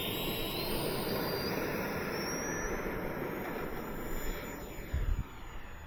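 An Eflite Viper 70mm V2 electric ducted-fan RC jet powers up for takeoff, a steady high-pitched whine with rising tones over a broad rushing roar, heard from nearby without speech.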